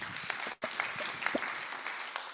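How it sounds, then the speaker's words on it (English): An audience at an educational summit applauds, a dense wash of clapping from a crowd that briefly dips before continuing steadily. "A round of applause for that, please."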